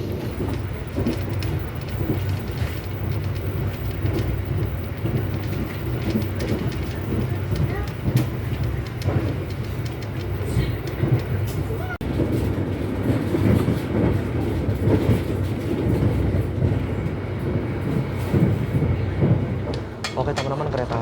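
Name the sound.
passenger train running on rails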